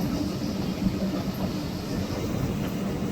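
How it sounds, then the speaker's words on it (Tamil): Traffic through a junction near Maradana railway station in Colombo at night gives a steady low rumble and hum, with no talk heard. "இப்படி வாகனம் போய் கொண்டிருக்குது."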